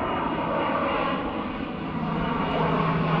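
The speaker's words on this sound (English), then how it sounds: "I can hear a plane coming." A low-flying water bomber aircraft's engine roars steadily throughout, a broad rumbling hum that stays loud and close without fading.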